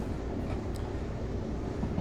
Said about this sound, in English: The train will maintain speed fairly well, actually.